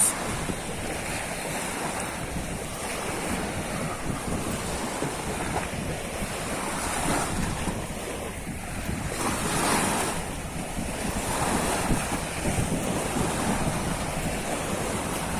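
Sea waves break and wash along a Turkish shore, a steady roaring surf with swelling surges and strong wind buffeting the microphone throughout, no voices.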